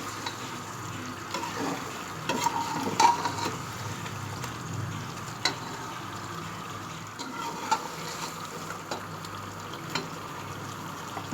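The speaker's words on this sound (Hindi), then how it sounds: "अब हम प्याज डालने के बाद अच्छी तरह भूनेंगे प्याज को कौरमे के मसाले के साथ।" Onions fry and are stirred with korma spices in a pan for chicken korma, a steady soft sizzle with occasional clinks and scrapes of the spoon, fairly faint and continuous throughout.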